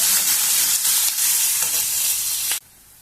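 Small onions and curry leaves frying in hot oil in a pan, a loud continuous close sizzle with a few stirring scrapes, cutting off abruptly near the end.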